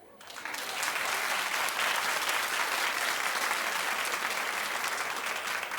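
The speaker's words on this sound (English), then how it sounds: "A clap." Studio audience at a daytime talk show breaking into applause that swells quickly and holds as a dense, sustained wash of clapping.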